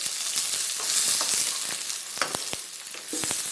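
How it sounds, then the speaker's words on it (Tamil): Onions sautéing in hot oil with cumin and mustard seeds for a potato pepper fry, a steady close sizzle with scattered pops and crackles and a few spoon-stirring scrapes, no talking. "இப்போ இதிலே நம்ம வெங்காயம் போட்டுக்கலாம். ஆட் பண்ணியாச்சு. இது நல்லா வதங்கணும்."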